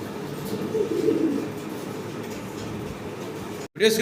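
Low, throaty cooing of fancy pigeons, including Carmine pigeons, fills the scene in a steady murmur, with a brief drop to silence near the end before the cooing resumes.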